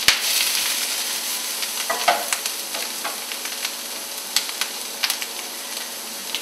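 Food is pan-fried in a hot pan, giving a continuous close sizzle with scattered light clicks and taps from stirring, and no one speaking.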